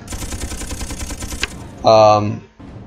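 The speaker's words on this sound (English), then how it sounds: "even though the Gatling guns are less than ideal" Gatling guns on a gunship in the Space Engineers video game fire in a rapid, loud mechanical burst of rattling shots, then a brief sharp tonal blast follows before the clip quiets.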